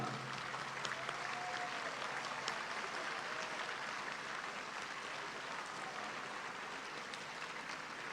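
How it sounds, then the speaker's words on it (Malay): Sustained loud applause from a big graduation ceremony audience, thick and even from start to finish, with faint murmurs beneath. "Juga tepukan yang gemuruh kepada para pensyarah."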